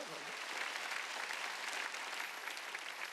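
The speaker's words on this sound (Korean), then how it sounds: "박수한다." A church congregation at a Wednesday worship service breaks into sustained applause, a thick, even wash of clapping from many people that carries on steadily without pause, recorded from inside the hall.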